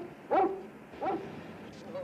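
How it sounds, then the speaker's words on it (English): A dog in a 1956 comedy film gives two short yipping barks about a second apart, fairly close and moderately loud, with quieter background between them. "one word from us and that dog will tear you apart"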